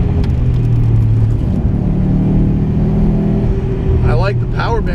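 A modified 2007 Subaru STI's engine and exhaust drone steadily while driving, a low, moderately loud growl with shifting tones under the cabin noise, and a brief chirp near the end.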